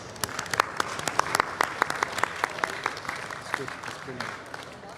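Audience applause for a speaker at the World Culture Festival, a sustained wash of many hands clapping with a few sharper individual claps standing out, steady and moderately loud throughout.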